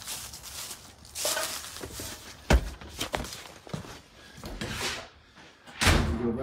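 Doors of a house in Denison, Texas are handled at the back entrance: several thuds and knocks of a door opening and closing with footsteps, fairly faint and roomy, no talk.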